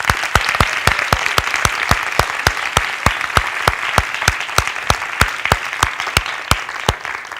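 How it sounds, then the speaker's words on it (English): A closing-ceremony crowd gives a round of applause, a full wash of clapping with a strong, evenly spaced beat of loud claps running through it, steady and unbroken for several seconds. "Let's give them a round of applause."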